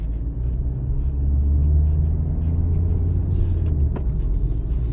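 A car at slow speed during a driving test in Ukraine, easing over a speed bump near a pedestrian crossing: steady low engine and road rumble, close and continuous, with a faint bump around the fourth second.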